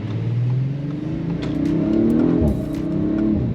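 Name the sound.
Audi RS5 car accelerating at 40% throttle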